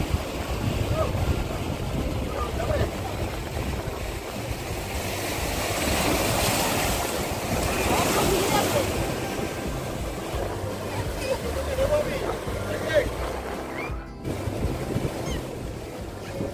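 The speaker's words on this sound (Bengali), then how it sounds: "বসে বসে অনেকক্ষণ ঢেউ দেখছি।" Sea waves wash over boulders at Mandarmani beach, a continuous loud roar of surf swelling and easing, with wind buffeting the microphone throughout.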